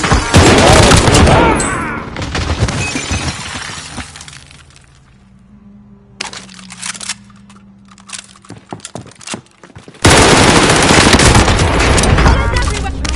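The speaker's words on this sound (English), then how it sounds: "Another team shooting at you." Heavy gunfire from an opposing team in an online shooter, loud bursts with shattering impacts at the start and again near the end, a quieter lull with scattered shots in between.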